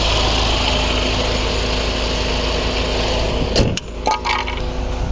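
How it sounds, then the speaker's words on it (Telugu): A 2020 Hyundai Venue SX(O) diesel engine idles with a steady, even drone, close and fairly loud, broken near the end by a few brief clinks. "ఇంజన్ స్టార్ట్ చేసి సౌండ్ వినిపించాను సార్"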